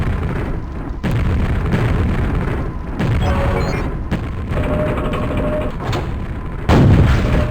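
Gunfire and explosions in the VR game Quake, a dense, loud stream of booming shots and blasts with brief gaps and a heavier burst near the end.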